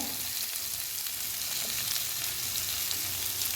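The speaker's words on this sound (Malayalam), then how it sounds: "എല്ലാം കൂടി ഒന്ന് വഴറ്റുവാണേ. അതിനകത്ത് നമുക്ക് ഇച്ചിരി ഉപ്പിട്ട് വഴറ്റാം." Salted onions sauté in oil in a pan for an egg curry, a steady loud sizzle and crackle running unbroken with no talking.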